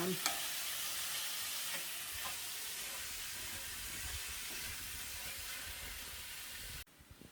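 Salmon being stirred as it fries in a pan, a steady close sizzle with a few scraping stir strokes early on before it cuts off near the end.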